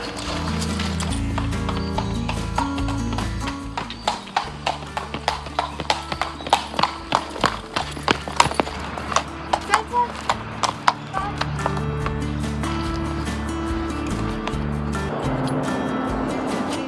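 Horse hooves clip-clop at a walking pace during a beach ride at Rajodi Beach, Vasai, a steady rhythmic patter of close hoofbeats under continuous background music.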